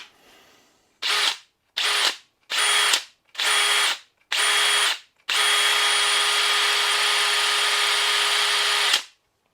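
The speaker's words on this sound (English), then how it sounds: "Let's see if it works in the drill." A DeWalt 18V cordless drill, fitted with a rebuilt battery pack, whirs in five short bursts and then runs steadily for several seconds, loud and close with brief silences between the early pulses.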